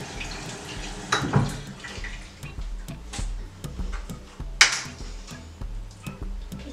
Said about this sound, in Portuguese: E aí é só molhar o rosto.